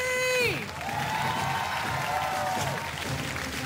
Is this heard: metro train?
no